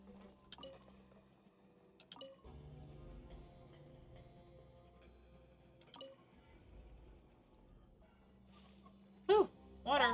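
Water level rising in a Genshin Impact puzzle area after a mechanism is activated, a soft low watery fill with scattered drips, quiet and steady, broken by a few sharp game clicks and chimes near the end.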